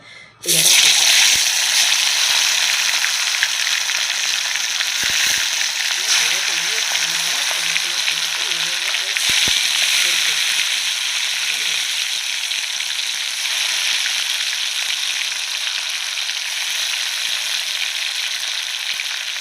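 Loud, continuous sizzling of prawns frying in hot oil, with occasional clinks and faint voices underneath.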